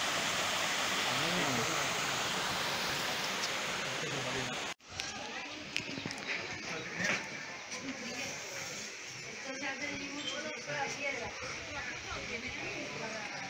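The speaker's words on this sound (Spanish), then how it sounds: "Ahí es donde cae el río." A river spills over a waterfall with a loud, steady broadband roar that fills the scene, then continues slightly quieter after an abrupt cut partway through.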